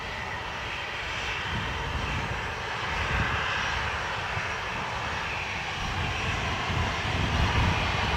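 An airliner takes off from a runway at Dublin Airport, its engines a steady, broad, distant roar that holds at an even level throughout with no talk.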